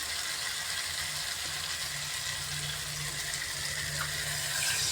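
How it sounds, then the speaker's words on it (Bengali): Water pours steadily into a simmering potato and fish curry in a cooking pot, a continuous splashing rush that holds at an even loudness for several seconds. "তো মা এবার জল ঢেলে দেবে কারণ এটা হয়ে গেছে ভালো করে কষানো"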